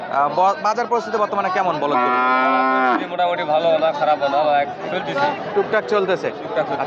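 Several loud, drawn-out cattle moos rise over a busy backdrop of people chattering nearby at a crowded cattle market where bullocks are bought and sold.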